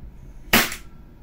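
A Cybergn Canik TP9 Elite Combat airsoft pistol fires one sharp, close gas-powered pop that fades within a fraction of a second into a quiet room.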